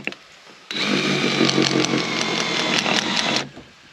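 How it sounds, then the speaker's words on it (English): A power driver whirs steadily for about three seconds, close and loud, sinking a small 1-inch wood screw into wood, with quiet handling noises before and after. "Let's take and screw it down. These are just little wood screws,"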